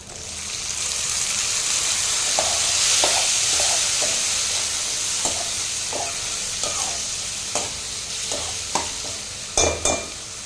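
Chopped tomatoes and onions sauté in a pan for an onion and brinjal thokku, giving a loud, steady sizzle close by, broken by a series of sharp spatula scrapes and clinks from repeated stirring, with no voices.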